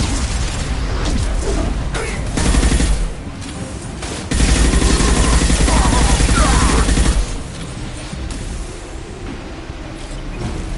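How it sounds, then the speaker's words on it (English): Dense gunfire from a Mass Effect 2 firefight, sustained bursts and booming shots rolling continuously for the whole stretch, loudest in two heavy surges mid-battle, with no talking over it. "Taking fire!"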